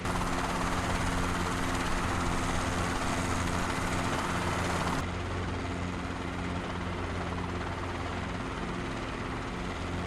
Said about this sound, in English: Let's add more RPM to make sure the governor catches the rotor all right, and now we can perform our takeoff.